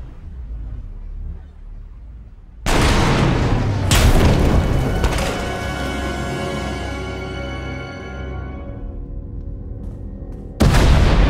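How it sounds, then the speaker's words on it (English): A deep booming explosion and tunnel collapse in Star Wars: The Old Republic bursts in, followed by heavy crumbling rumble and debris, with a second loud blast at the end. "Explosions. The tunnel collapsed."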